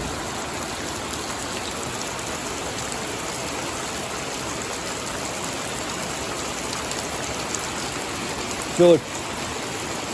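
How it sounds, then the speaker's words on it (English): Steady heavy rain pours off a roof overhang of a cordwood house and splashes continuously close by, with a person briefly speaking a single word near the end. "even in a heavy downpour, you get some spray"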